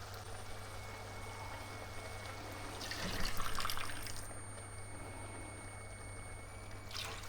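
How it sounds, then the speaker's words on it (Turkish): Hot water poured into a cooking pot holding tomato juice and meat stock for Ankara tava, a soft splashing pour swelling for a few seconds over a steady low hum, fairly faint. "Ben 3 su bardağı sıcak su ekleyeceğim"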